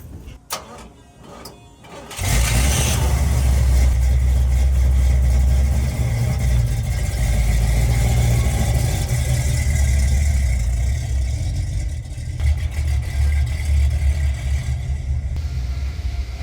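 A minivan engine starts and pulls away on a test drive, a loud steady low rumble filling the clip after a short quiet lead-in, holding strong before easing slightly toward the end.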